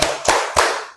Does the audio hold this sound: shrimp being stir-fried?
no